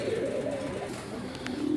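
Black and white Raj Golla pigeons give low, throaty coos close by, a rolling murmur running through the short moment with faint background noise.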